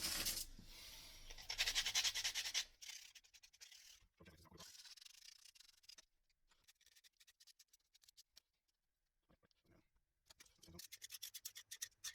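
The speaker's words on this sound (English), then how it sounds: "I might just sand this little area here to get that to sit nicely in there." Sandpaper is worked back and forth by hand over a small area of a Range Rover part, giving close, raspy scratching strokes in short bursts separated by quiet pauses.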